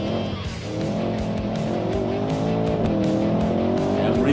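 A roadster in BeamNG brakes hard, its tires squealing in a sustained screech over the droning engine, loud and close throughout.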